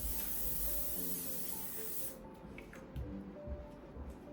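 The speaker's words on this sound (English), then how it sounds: "I'm going to be using L'Oreal Paris Infallible 3-second setting mist." A continuous hiss of L'Oreal Paris Infallible setting mist sprays for about two seconds close by, then stops, leaving faint handling rustles and soft knocks.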